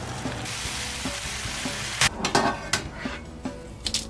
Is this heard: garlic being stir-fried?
yes